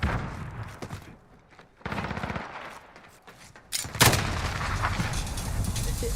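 An Oden rifle fires in a video game in heavy bursts of loud gunshots, with short pauses between volleys and a louder, denser stretch of fire near the end.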